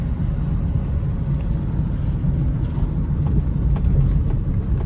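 Maruti Ritz engine revving while driving in second gear, a steady low-pitched drone rising and holding at high revs, close and loud with no talk over it.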